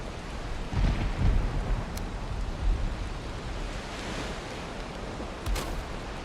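Steady rain in Valheim, a dense hissing wash close by that carries on without a break, with a few faint thumps and gusty swells over it and no voices.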